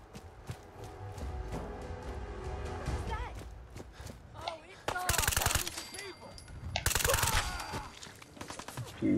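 Bursts of rapid automatic fire from a UMP submachine gun chambered for .45 ammo in Fallout 4, loud close volleys separated by pauses, with someone talking between shots.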